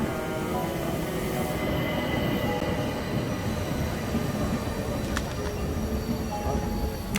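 A train running steadily in an Agatha Christie Hercule Poirot video game, a continuous loud rumble of wheels and carriage with faint squealing, playing throughout.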